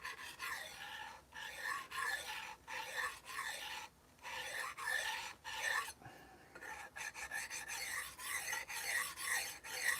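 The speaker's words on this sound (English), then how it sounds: "now we're moving to the 400 grit stone" A knife being sharpened on a 400 grit stone, the blade soft steel, makes steady rhythmic rasping strokes that repeat with short pauses between passes, close and even, with no talking.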